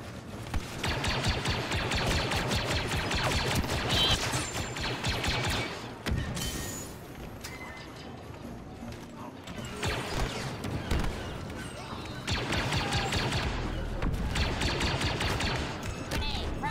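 Repeated gunfire bursts from a shotgun-style blaster in Star Wars Battlefront II, loud and rapid in several clustered volleys separated by quieter gaps, with a player voice faintly underneath.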